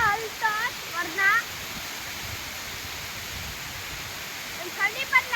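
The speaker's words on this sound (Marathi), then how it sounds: "सिंधुदुर्गात खूपच पाऊस पडता" Heavy monsoon rain pours steadily in Sindhudurg in the Konkan region, a dense continuous hiss throughout, with someone talking briefly at the start and end.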